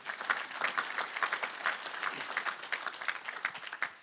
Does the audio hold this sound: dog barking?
no